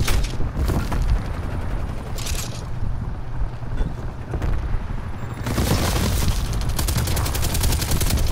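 Automatic gunfire from a light machine gun rattles in Call of Duty Cold War, with dense, loud bursts running almost continuously and a heavier stretch of firing toward the end; no talk is heard.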